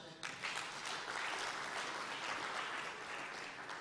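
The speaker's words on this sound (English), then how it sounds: "Please give them a hand clap." An audience at a pitch day event applauds steadily, a dense even wash of clapping, fairly faint and distant, starting abruptly and holding throughout.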